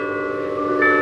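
A church bell rings behind a Methodist church in Waverly Hall, Georgia, a steady ringing tone held briefly outdoors at moderate loudness with no talk.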